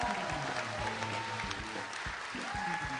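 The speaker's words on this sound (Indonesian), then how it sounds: "Tepuk tangan untuk 18 komik yang akan bertanding." Dense applause from a studio audience welcoming the 18 competing comedians onstage at a stand-up comedy competition show, a steady wash of clapping that stays loud and continuous throughout with no talk over it.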